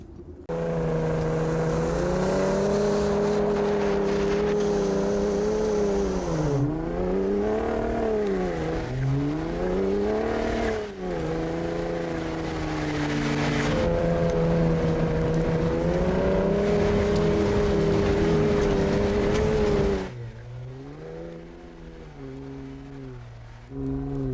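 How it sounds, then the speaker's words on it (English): A 2021 Ford Raptor pickup's exhaust rumbles loudly and steadily through different drive modes, with repeated revs rising and falling, then the tone drops and quiets near the end before swelling again. "you get to hear different drive modes with the exhaust"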